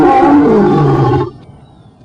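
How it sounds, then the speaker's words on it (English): A lion gives one loud, close roar lasting just over a second, falling in pitch, then cuts off into quiet background noise. "The lion's majestic roar was designed by Ya'oh"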